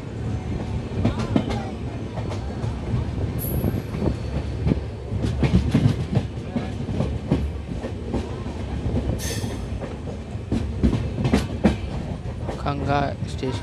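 A passenger express train runs along the rails near a small station, with a continuous loud rumble, rhythmic clickety-clack from the wheels and occasional brief squeals, close up and with no talk.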